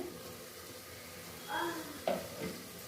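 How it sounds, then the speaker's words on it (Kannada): Carrot and potato pieces fry in a pan for a vegetable rice bath, a soft continuous sizzle with a brief stir and a light clink of utensil on the pan, close but quiet, no speech. "ಇದನ್ನು ಇವಾಗ ಫ್ರೈ ಮಾಡ್ಕೊಳ್ಳೋಣ"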